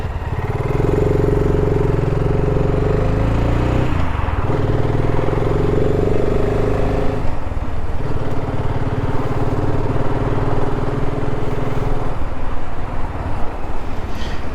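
A BSA Goldstar 650 motorcycle steadily rides along a road, a continuous near engine drone with wind rush that dips briefly around a turn.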